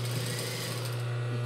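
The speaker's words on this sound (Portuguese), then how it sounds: "Olha, e costura." Sewing machine stitching stretched elastic onto a baby romper, a steady continuous motor whir with a strong low hum, close and alone throughout.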